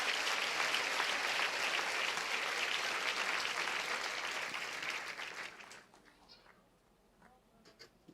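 A church congregation applauds during a sermon, sustained dense clapping that fills the room for about six seconds before fading to a few scattered claps and quiet.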